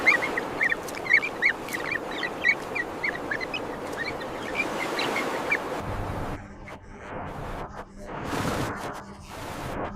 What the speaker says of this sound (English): The flock lifts as one and slips away.